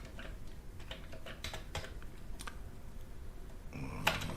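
Rapid keystrokes clatter on a Commodore VIC-20 keyboard in uneven bursts, close and fairly quiet, with a slightly sharper click near the end.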